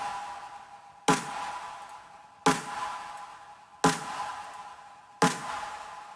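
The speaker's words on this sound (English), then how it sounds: "the best example is the snare in the chorus" Four sharp, bright synthetic snare hits spaced evenly apart, each with a crisp attack and a hissy decaying tail, over a sustained tonal backdrop.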